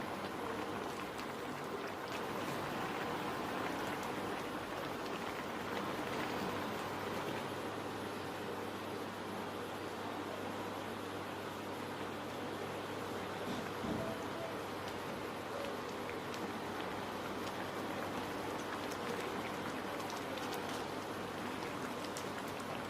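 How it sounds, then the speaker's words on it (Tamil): Egg curry (kuzhambu) boiling steadily in a pot, a continuous even bubbling and simmering hiss with no break, close and moderately loud throughout. "குழம்பு நல்லா கொதிச்சிருச்சு"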